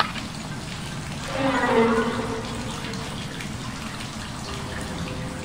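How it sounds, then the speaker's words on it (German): Shower water switches on inside a house in the horror video game Scare BnB, a soft hiss of running water that swells briefly near the start and then settles into a faint steady spray. "Warum ist jetzt in der Dusche das Wasser angegangen?"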